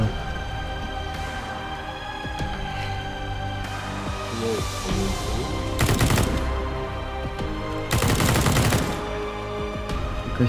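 Bursts of rapid gunfire in Counter-Strike: Global Offensive crackle over a constant electronic game soundtrack, with two louder, longer volleys standing out near the end.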